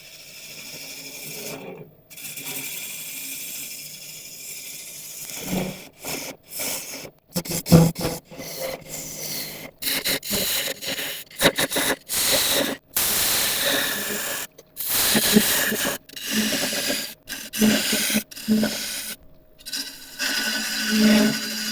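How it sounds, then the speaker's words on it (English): A wooden log spins on a lathe while a gouge hollows it out, long rasping scrapes broken by brief pauses, loud and close, with a motor hum underneath and no voices. "so we'll start to hollow this out nice and gently, nice and slowly"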